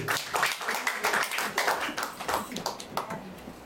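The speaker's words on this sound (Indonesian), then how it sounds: "Mari kita beri tepuk tangan yang mulia bagi Tuhan dulu." A church congregation claps together during a Sunday service, brisk uneven clapping close by for several seconds, some claps sharper than others, with no talk over it.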